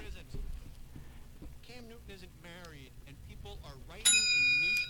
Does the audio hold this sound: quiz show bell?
yes